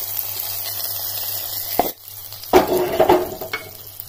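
Onions and chillies frying in a pan as pappadam is stirred in for a curry, with a steady low sizzle and bursts of scraping, stirring clatter partway through.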